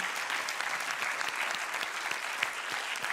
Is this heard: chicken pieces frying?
no